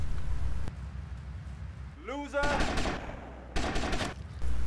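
Gunfire in the video game GTA Vice City Definitive Edition comes as two short, sharp bursts of rapid shots, loud and close, separated by a quieter stretch of game ambience.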